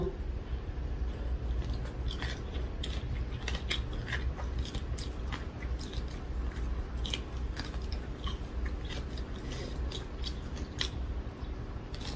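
Close, wet chewing and crunching of spicy Thai papaya salad with pickled field crab and rice noodles, a continuous rapid run of bites and mastication with no talk.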